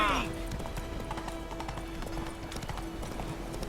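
Horse hooves clop steadily at a walking pace in The Witcher 3 video game, close and fairly loud, over a low continuous background hum with a brief higher tone at the start.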